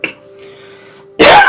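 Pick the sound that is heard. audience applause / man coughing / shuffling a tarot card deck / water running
man coughing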